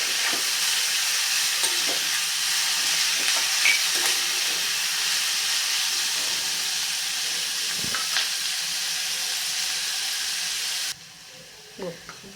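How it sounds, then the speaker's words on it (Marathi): Onion sautéing in oil over a medium flame, a dense, steady hiss of frying with occasional faint stirring scrapes, dropping quieter near the end. "गुलाबी रंगावरती छान परतून घ्यायचा आहे गॅस मी मीडियम आचेवरच ठेवलेला आहे"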